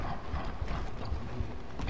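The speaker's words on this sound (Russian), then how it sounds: "Слышу собаку. Она где-то рядом бегает." Rapid padding footfalls of a dog running nearby in the video game Dark Souls II, a busy, continuous patter over low rumbling game ambience with no speech.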